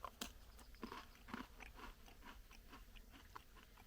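Someone bites into a dry, salty biscuit from a Spanish-made civilian ration pack, producing a few sharp crunches followed by quieter, irregular chewing, close and faint with no talking.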